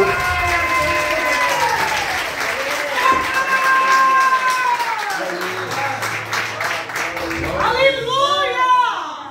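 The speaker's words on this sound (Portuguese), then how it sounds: "Dê uma salva de palmas para Jesus." A church congregation claps and cheers during a Portuguese-language sermon, applause filling the whole stretch at close range, with a voice speaking over the crowd and a whistling, singing-like tone rising near the end.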